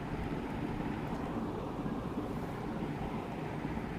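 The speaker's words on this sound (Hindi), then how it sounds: "आपने इसको अच्छी तरह से धो लेना है।" Brinjals (eggplants) are washed in water at home while a brinjal bharta lunch is prepared. Water rushes and splashes in a soft, continuous wash of noise with no talking.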